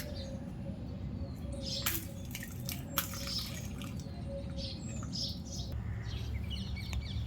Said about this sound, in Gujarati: એક્સરસાઇઝ કરવાની પહેલા આપણે ચકલાને થોડું પાણી આપી દઈએ.